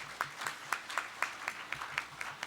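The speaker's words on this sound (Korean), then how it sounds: "여러분 다시 한번 박수를 부탁드립니다" An audience at a founding general assembly claps in a fairly even rhythm, moderately loud, with no voices over it.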